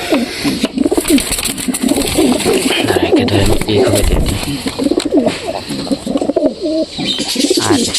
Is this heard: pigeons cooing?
yes